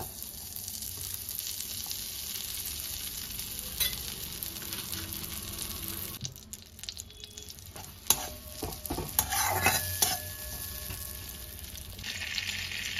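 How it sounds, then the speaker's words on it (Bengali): Butter melts in a karahi set on a gas stove, giving a steady sizzle and crackle that runs throughout, with occasional scrapes and clinks of stirring midway, close and alone. "মালাই তৈরি করবার জন্য আমি গ্যাসে কড়াই বসিয়ে দিয়েছি, দিয়ে বাটার দিয়ে দিলাম।"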